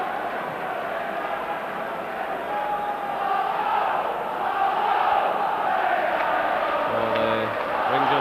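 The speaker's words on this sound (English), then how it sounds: "Crowd trying to lift the team." A football crowd at a Rangers versus Club Brugge match in 1993 keeps up a sustained, distant roar of chanting and singing, with a surge near the end and a commentator's voice faintly underneath.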